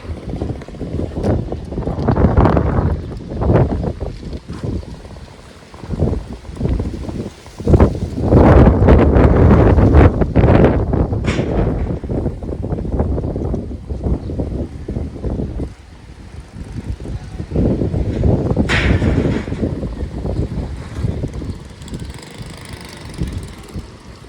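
Heavy wind of a sudden rainstorm buffets the microphone at a farmyard, a loud continuous rushing roar with stronger gusts rising and falling, and almost no talking.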